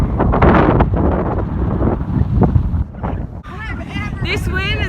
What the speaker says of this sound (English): When did it get so windy out